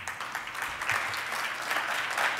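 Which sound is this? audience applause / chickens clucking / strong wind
audience applause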